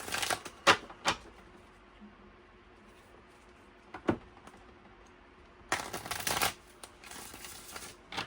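A few quiet riffling bursts of cards being shuffled, spaced apart, with a longer shuffle near the end over a faint room hush.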